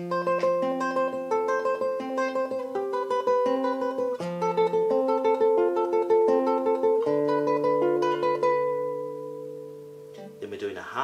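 Rapid tremolo notes ripple over a moving bass line on a nylon-string classical guitar, from Tárrega's Recuerdos de la Alhambra, steady and close, played alone for about ten seconds before fading.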